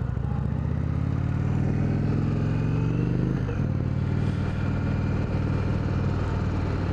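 An Indian Springfield Dark Horse motorcycle is ridden and heard up close with constant wind roar. The engine pitch climbs steadily through a gear, drops at a shift, and settles into a steady cruising drone with no talking.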